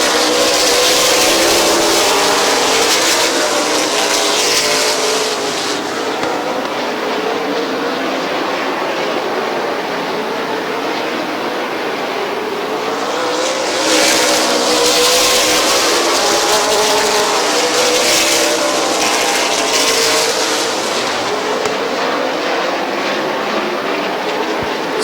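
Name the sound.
race cars racing at Midvale Speedway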